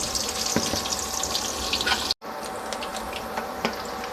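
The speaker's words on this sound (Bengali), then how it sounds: "এই যে আমাদের পেঁয়াজ ভাজা হয়ে গেছে" Onions sizzling in a pan, a continuous bright crackle of frying with occasional sharper pops, briefly cut off by a momentary gap before the sizzle resumes.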